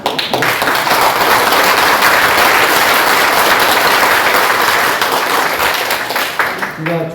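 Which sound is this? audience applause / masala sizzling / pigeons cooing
audience applause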